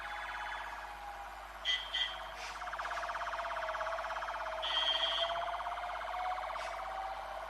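An ambulance siren wails steadily and loudly through the whole stretch, with a few brief sharper bursts over it and no talking.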